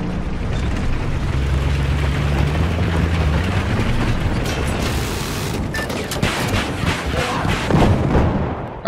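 Gunfire and heavy battlefield rumble from Battlefield 4 while driving a vehicle, a dense, continuous roar with engine drone and sharp shots throughout, loud and close.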